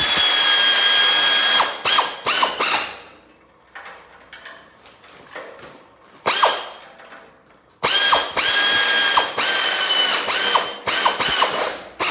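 An air ratchet tightening bolts, several sharp loud bursts of rapid ratcheting clatter separated by quiet gaps, each run ending abruptly as the bolt seats.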